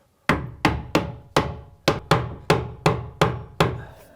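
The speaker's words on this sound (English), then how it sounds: "A little tap." Nine sharp knocks from tapping a wooden cabinet filler into place against a wall, struck at a steady, fairly quick rhythm, each hit close and solid with a short decay, no voices.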